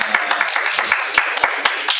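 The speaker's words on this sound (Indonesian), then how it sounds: "Tepuk tangan." A scattered round of applause from a small studio audience: a few sharp, separate hand claps spaced irregularly, fairly close and loud, with no continuous roar behind them.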